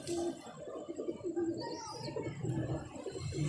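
Pigeons in a pigeon loft coo softly in repeated low, rolling phrases at close range, with light rustling between calls in a quiet space.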